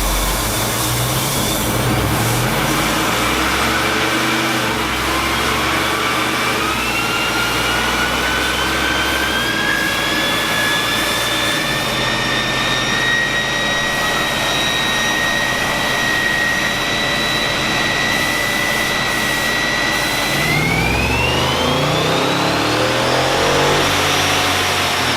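A Procharger-supercharged Hemi engine with a cam on 93 octane revs hard through a long tuning pull, a loud rising supercharger whine climbing steadily, dropping briefly, then surging again near the end.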